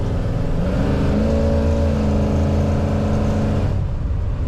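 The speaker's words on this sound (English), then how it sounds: "Very fun to push the throttle on this car." A 1963 Chevrolet Impala two-door hardtop accelerates with a loud, steady engine roar, its pitch climbing under throttle from inside the car, then easing off near the end.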